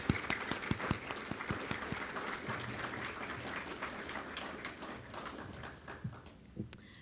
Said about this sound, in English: Let's do another round of applause.